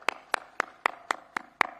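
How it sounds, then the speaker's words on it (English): Sharp, evenly spaced hand claps ring out at a steady beat, seven crisp strikes in under two seconds, cheering on the president at a WRC Safari Rally flag-off event at KICC in Nairobi. "A big applause for this one."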